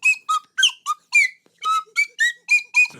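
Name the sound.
slide whistle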